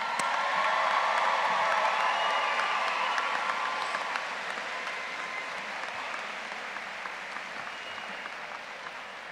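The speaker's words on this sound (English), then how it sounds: "Let's give them a round of applause." Applause from a large crowd at a May 2017 commencement ceremony, a broad, roomy roar of clapping with occasional whoops, loud at first and slowly fading over about nine seconds.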